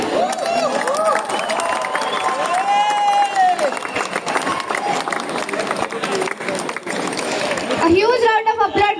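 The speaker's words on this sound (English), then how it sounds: "A huge round of applause" Crowd applause and cheering at a half marathon prize distribution, a steady clapping wash mixed with shouts and voices that continues throughout.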